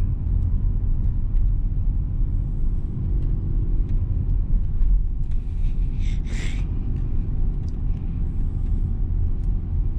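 A 2022 Mitsubishi Xpander Ultimate with CVT accelerating in DS mode on a coastal road, heard as a steady low engine and road rumble from inside the cabin with a brief hiss in the middle.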